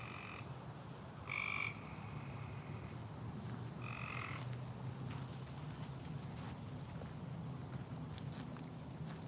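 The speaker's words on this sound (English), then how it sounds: "I want to say that that's a frog" A frog croaks outdoors along a walking path near camp outbuildings, in a few distinct bursts over a steady background of ambient noise, with faint footstep-like sounds.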